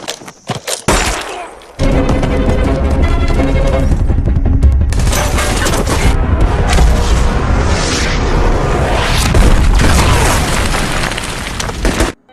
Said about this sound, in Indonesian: bom granat yang dibawa lawan meledak